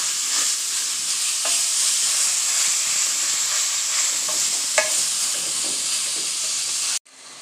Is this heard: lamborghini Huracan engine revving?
no